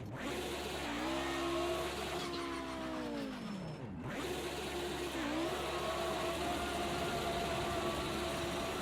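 Simulated engine of an Audi 90 Quattro IMSA GTO race car in a racing video game revs hard and holds a burnout, pitch sweeping down then climbing again, loud and continuous with no talk.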